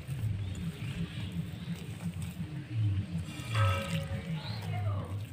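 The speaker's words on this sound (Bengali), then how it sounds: "অল্প অল্প করে জল দিয়ে মেখে নেব।" Palm fruit and puffed rice batter mixed by hand with water, a quiet, close run of wet squelching and soft patter in an uneven rhythm.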